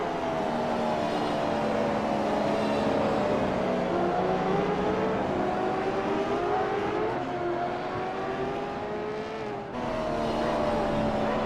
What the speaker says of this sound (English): Someone's in the pits revving with me.